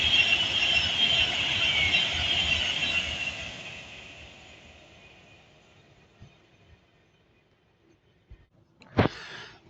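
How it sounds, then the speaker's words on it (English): An Avanti West Coast Class 390 Pendolino passes on the West Coast Main Line at Bletchley, a loud rushing roar that fades away over several seconds, followed by a brief sharp squeal or clatter near the end. "our first train today will be an Avanti West Coast 390 Pendolino"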